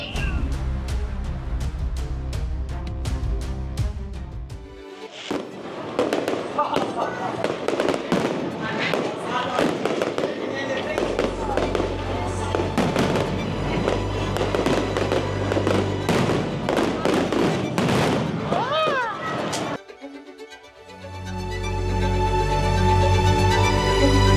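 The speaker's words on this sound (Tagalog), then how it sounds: "Wow, ayan ang fireworks. Sakto. Let's go. Let's watch our fireworks." Fireworks burst repeatedly in a dense, crackling barrage over SM Mall of Asia in Manila, with booming thuds and sharp pops, loud and continuous before a brief lull and more blasts.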